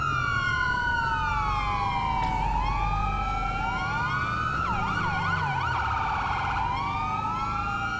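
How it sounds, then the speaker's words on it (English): Several police sirens in a FiveM role-play pursuit wail together, overlapping rising and falling tones over a low engine rumble, loud and continuous throughout. "there's so many sirens for a 15 mile per hour pursuit"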